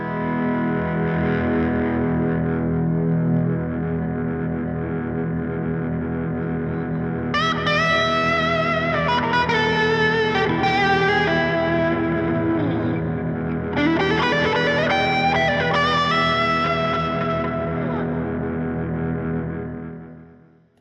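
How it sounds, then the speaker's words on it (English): An electric guitar chord swells in through delay and reverb pedals, building into a dense, washed-out sustain, with further chords layered on repeating echoes, then fading away at the end. "So what I'll do is I'll put the delay and reverb on,"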